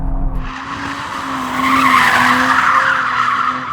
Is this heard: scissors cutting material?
no